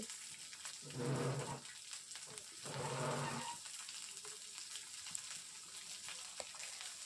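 Chopped onions with garlic sizzling in a pan, two brief louder bursts of frying as they hit the oil, then a low steady hiss.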